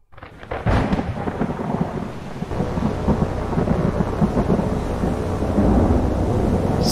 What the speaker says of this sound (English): noisy storm